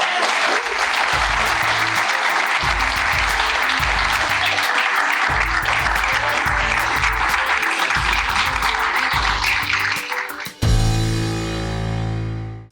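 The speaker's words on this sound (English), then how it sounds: "So let's give them another round of applause." An audience gives a standing ovation at a speaker-series event, with loud, continuous clapping layered over a pulsing music beat, after which the clapping cuts off and only the music rings out.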